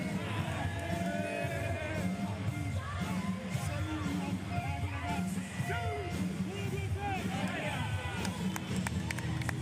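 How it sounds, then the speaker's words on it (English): Fans in a nearly sold-out basketball arena at an Italy versus Great Britain FIBA World Cup qualifier clap steadily amid crowd hubbub, with a commentator talking over the noise throughout. "And they will clap the fans here in the near sold-out arena."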